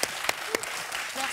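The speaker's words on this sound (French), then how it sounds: "Et toute l'équipe vous applaudit" A TV game show team applauds a winning contestant, a brief burst of clapping with a few sharper claps standing out over a steady patter.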